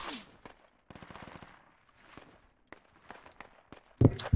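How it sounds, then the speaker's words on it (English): Gunfire in the military shooter Project Reality: a loud crack at the start, then scattered distant shots and rapid clicks, ending in a close, heavy burst of fire. "I'm shooting from here"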